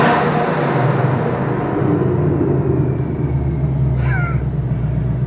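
Supercharged ESS 2021 Mustang GT, an 800+ hp car, rolling through a parking garage with a steady, loud low engine rumble echoing off concrete; a brief faint squeak or chirp cuts in near the end.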